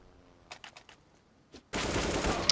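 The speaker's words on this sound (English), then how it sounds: "It's always a sad sign as a CT to hear the clatter of many, many high-powered rounds connecting with the door" Heavy rounds clatter against a door in Counter-Strike on Dust 2, a few faint scattered cracks first, then a sudden loud sustained barrage of rapid impacts near the end.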